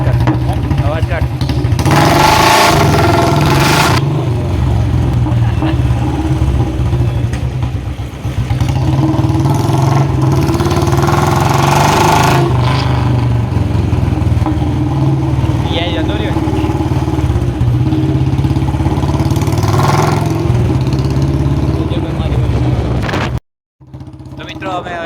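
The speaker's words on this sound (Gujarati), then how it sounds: "બુલેટના સપાટા બોલાવીને આવીએ" A Royal Enfield Bullet motorcycle rumbles close by on a ride, its engine idling and revving with periodic louder bursts over about twenty-five seconds, with people talking over the steady thump before it cuts off briefly near the end.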